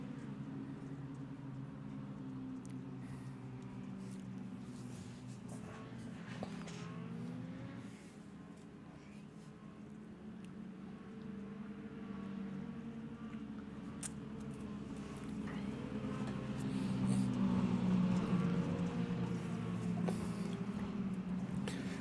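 Stock cars at a round of the RPES Extreme Outlaw Stock Tour idle and roll out of the pits under a pace truck, a low, steady engine rumble that grows louder in the later seconds.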